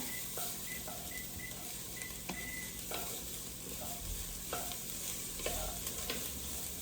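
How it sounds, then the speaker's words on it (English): Tomato paste toasts in a pot for one-pot spaghetti alla vodka, with a steady sizzle and hiss broken by repeated scraping stirs of a utensil against the pot, close and fairly quiet. "Just going to stir it until it's nice and toasted."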